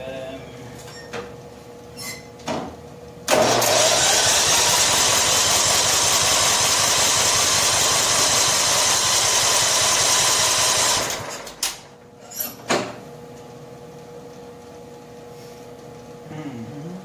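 A John Deere STX38 lawn tractor engine with an old carburetor cranks and catches, running loud and steady for about eight seconds before cutting out, with a few brief knocks and thumps before and after.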